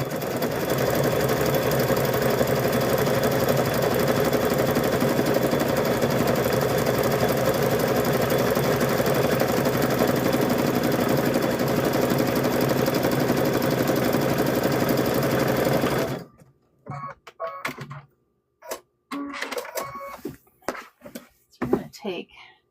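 Sewing machine stitching across a patchwork gnome quilt, a steady loud mechanical whirring hum for about sixteen seconds, then stopping into near silence with scattered faint handling clicks and rustles.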